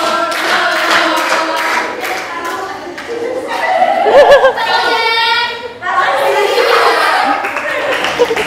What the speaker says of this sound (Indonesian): Tepuk tangan untuk kelompok Kamboja.